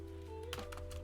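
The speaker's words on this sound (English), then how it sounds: "I'm just going to type" A few quiet keystrokes tapped on a computer keyboard, a short cluster of light clicks over a faint steady hum.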